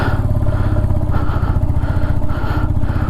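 A motorcycle engine labors uphill in first gear on a rough high-altitude Ladakh road near Umling La, a loud, close, steady thumping drone with rattling clatter and no pause.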